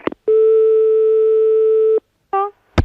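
A French telephone line gives a single long, steady electronic tone during a call that is malfunctioning. A shorter tone follows after a brief gap, and then a faint burst of another sound.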